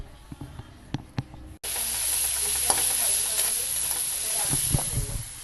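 Food sizzles and hisses loudly in a pan from about a second and a half in, a steady frying wash broken by stirring scrapes, following a few quiet clinks before the heat kicks in.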